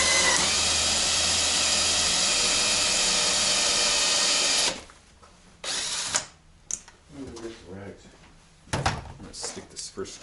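A power drill driving screws to mount a bench vise in a garage: a loud continuous whir for several seconds, then stops, followed by clunks, handling noises and speech.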